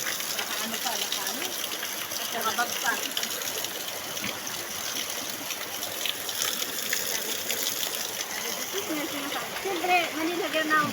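Mountain spring water flows and splashes steadily at close range, a continuous gushing wash with brief splatters, while people talk faintly in the background.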